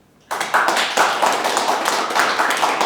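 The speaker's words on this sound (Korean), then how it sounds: "토론자님을 위해서 박수 한번 보내주십시오" An audience at an academic conference bursts into applause for a panel discussant, dense, steady clapping that starts abruptly after a quiet moment and holds at full strength to the end.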